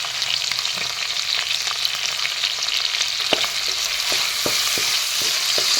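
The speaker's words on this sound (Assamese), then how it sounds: "এইখিনি এনেদৰে লৰাই দিছোঁ এফালৰ পৰা।" Fish curry with turmeric and salt is stirred in a hot pan, producing a constant sizzle with a string of sharp spatula taps and scrapes that grow more frequent toward the end.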